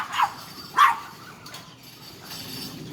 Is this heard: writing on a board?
no